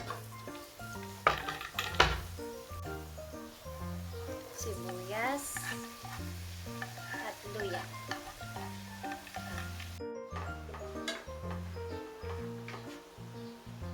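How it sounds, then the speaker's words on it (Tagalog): Garlic sizzling in hot cooking oil, a steady close fry with scraping stirs and pan clatter throughout, and a short gap of near silence partway through. "Lagay na tayo ng mantika. Bawang."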